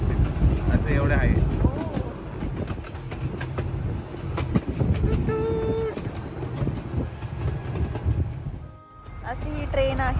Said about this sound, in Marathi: अशी ही ट्रेन आहे मागे.